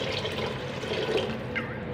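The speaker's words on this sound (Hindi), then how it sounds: "मैंने 3 गिलास पानी डाला है।" Water poured from a glass into a cooking pot of matar gosht with fried peas, a steady broadband splashing and gurgling that runs close and fairly loud for the whole moment, no voices over it.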